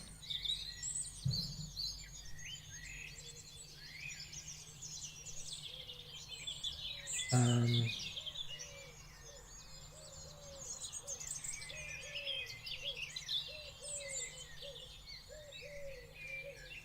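Outdoor bird calls, with continuous chirps and tweets from small birds plus a few low pigeon-like coos, one louder coo phrase in the middle, all fairly faint and steady.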